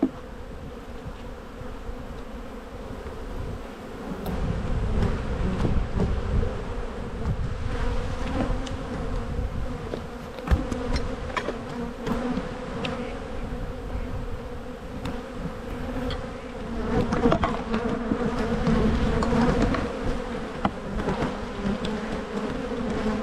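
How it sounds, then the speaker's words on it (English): Honey bees buzzing at an opened hive in Australia in spring, a loud, dense, continuous drone of many insects close by, with some rustling and handling noise from the beekeeper. "We'll take this lid off. Lots and lots of bees."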